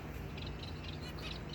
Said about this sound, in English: mostly what I have in right now are different kinds of finches